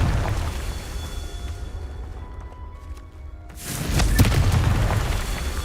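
Confringo fire spell explosion in Hogwarts Legacy on Xbox Series X: a quiet lull, then a loud, broad, rumbling burst that swells and lingers with crackling debris.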